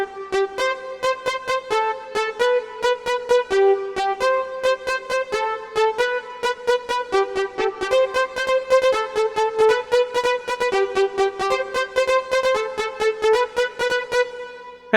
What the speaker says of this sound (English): you have this solo synth that it sounds like a trumpet